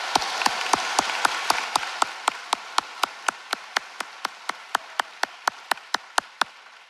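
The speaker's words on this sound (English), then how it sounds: "Y'all can stand and give everyone a round of applause." Audience applause at a Moultrie Middle School eighth-grade graduation ceremony: a sharp, steady rhythmic clap beat about three times per second rides over a softer bed of crowd clapping that gradually quiets.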